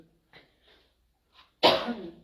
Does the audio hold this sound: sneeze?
yes